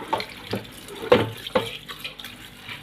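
Food is rinsed under running tap water after a vinegar soak, with short splashing bursts close by and no talking.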